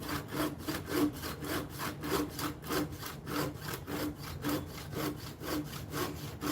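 A hand saw cuts through a clamped wooden box in steady back-and-forth strokes, about two per second, each a rasping rub of teeth on wood, close and moderately loud.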